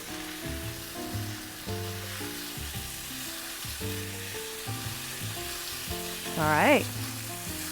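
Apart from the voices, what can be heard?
spicy tofu being stirred and sizzling in a pan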